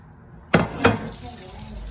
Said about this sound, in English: let's get the plate a rinse